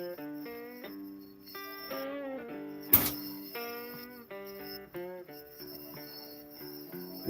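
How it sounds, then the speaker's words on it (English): Crickets chirp outdoors in a steady high trill that runs beneath louder melodic music, with one sharp burst cutting through midway. "You can probably hear the crickets out here too."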